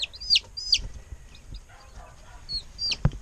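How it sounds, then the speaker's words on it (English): Several high, thin peeps from quail chicks, close by, in short separate bursts with quiet gaps between them, faint soft rustling underneath, no voices. "here's your little quail friends"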